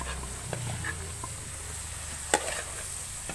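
Vegetables being stirred in a pan, with soft scraping strokes over a low steady sizzle and one sharp utensil knock near the end; quiet and close.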